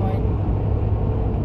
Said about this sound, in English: You can hear the tires.